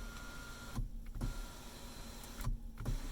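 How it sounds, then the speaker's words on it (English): The motorized shade on a Ram 1500 Laramie Longhorn's panoramic sunroof slides back, a quiet electric motor hum with soft clicks as it starts and stops twice inside the cabin. "I'll go ahead and move this shade back"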